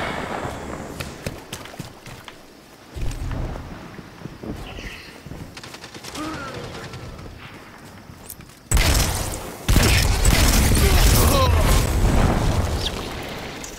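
A grenade blast and bursts of gunfire from a Destiny 2 Crucible match: a low boom early on, then loud, dense rapid firing and explosions that swell and carry on to the end.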